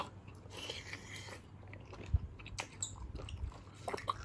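Close chewing of a blanched giant squid tentacle, quiet wet mouth sounds with soft crunchy bites and irregular chomps, no talking.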